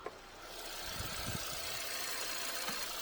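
A Hyundai Avante AD 1.6 GDI engine idles steadily with a low, even rumble, little vibration and a faint mechanical hum, with no voices over it.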